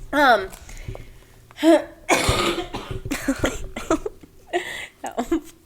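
A series of harsh, explosive coughs and sputters breaks out between bursts of laughter and talk, close and loud, with a few sharp gasping breaths.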